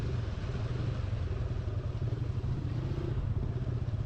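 A motorcycle engine pulling hard while riding toward Bogura, a continuous low droning rumble with steady throbbing, moderately loud and uninterrupted.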